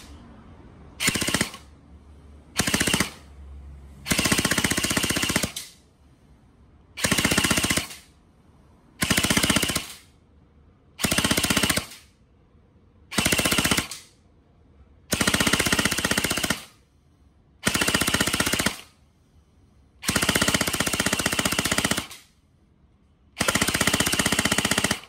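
A gun fires rounds through a chronograph in about a dozen loud, rattling bursts of rapid fire. Each burst lasts one to two seconds and is separated by short quiet gaps.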